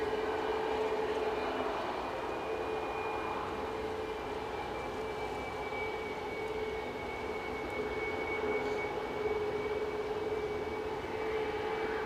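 ATR turboprop aircraft at Edinburgh airport, a steady droning engine hum with a sustained tonal whine, moderately distant and continuous, without voices.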